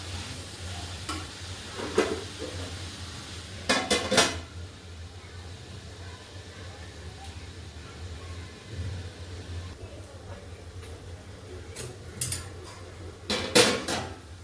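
Food stirred and mixed in a cooking pot for a Gujarati pulao, with a few short bursts of clattering utensil scrapes spaced apart over a steady low hum and faint sizzle.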